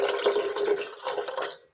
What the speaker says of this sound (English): Add some water from here.